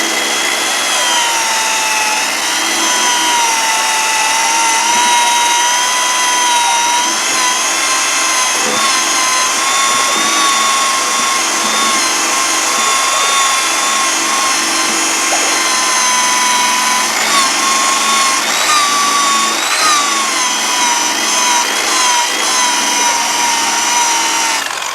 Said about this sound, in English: You can see it just rolls the adhesive right off. Just kind of let the eraser do its work.